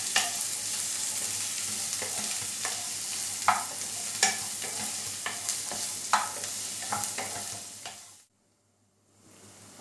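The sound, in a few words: onions frying until brown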